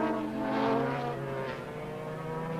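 Formula One racing motorcycles lapping the Thruxton circuit in 1988, a sustained high-pitched engine whine that swells briefly then holds steady, loud and fairly close, with no talk.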